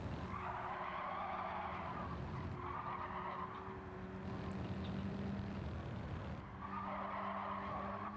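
A drifting race car at a motorsport development series event squeals its tires through corners, sustained skidding screeches rising and falling over a steady engine drone, heard from a distance.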